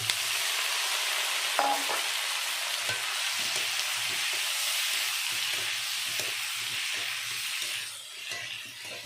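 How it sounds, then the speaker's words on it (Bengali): Cauliflower and potatoes tipped into a pan of frying tomato, ginger and green chilli give a steady, close sizzle and hiss, with soft stirring scrapes throughout. "এখন দিয়ে দেবো ভাজে ভেজে রাখা ফুলকপি আর আলু"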